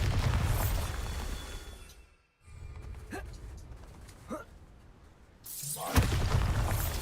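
A Bombarda blasting spell goes off in the Hogwarts video game, with a dense roar of game noise, a brief lull, then a fresh loud burst and rumble near the end, heard close and full.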